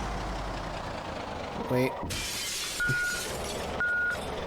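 Reversing beeps from a van in the Project Zomboid video game sound as two steady electronic tones about a second apart, over a busy game background after someone briefly speaks.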